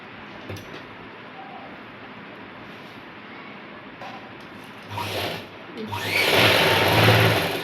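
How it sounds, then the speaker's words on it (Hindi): Electric sewing machine stitching pant fabric, starting with faint short runs, then a loud, steady whirring burst in the final seconds, close by, with no talk over it. "यहाँ पर हम सिलाई लगाते हुए चले जाएंगे इस तरीके से"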